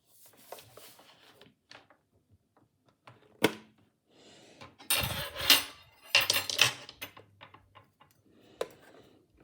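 Beater attachments click and clatter as they are fitted into a Tefal HT650E Power Mix Silence hand mixer: sparse, close, sharp plastic-and-metal knocks and rattles, with a busier cluster of clacks in the middle.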